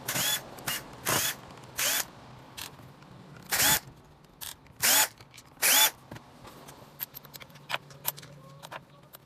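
A cordless screwdriver backs out screws while a lithium battery tile leveling machine is taken apart, giving several short, sharp whirring bursts separated by quiet gaps and faint clicks, close by and alone.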